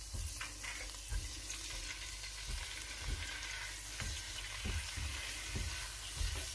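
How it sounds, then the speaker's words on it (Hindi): Green chillies and ginger garlic paste fry in half a cup of oil for chicken karahi: a quiet, continuous sizzle broken by soft clicks and taps of stirring. "हमने आधा कप ऑयल, उसमें हमने ऐड किए हरी मिर्चें और ये अदरक लहसुन का पेस्ट, को हम अच्छे से पहले मिक्स करेंगे।"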